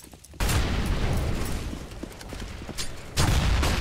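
A grenade goes off in Counter-Strike on the Cache map, a loud broadband blast that rumbles and crackles on for several seconds, followed by a second heavy burst near the end.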